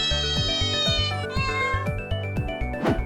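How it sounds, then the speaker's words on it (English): Cat meowing in a children's animal song, a clear meow over a steady, rhythmic musical backing with bass beats and tones. "Meow meow, says the cat."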